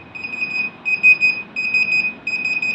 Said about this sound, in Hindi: जब भी फेक नोट आएगा तो मशीन पहले वीप करेगी